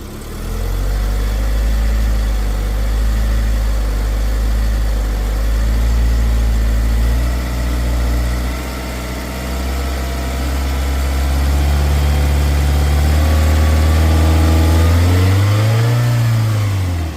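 A VAZ 2110 engine with a newly replaced throttle position sensor idles steadily and loudly up close, then revs smoothly upward near the end and settles back, with no stumbling.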